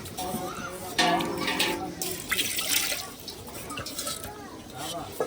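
Water poured into a cooking pot over forest tubers and washed rice in a village setting, splashing and trickling unevenly with drips, faint and close, while people talk.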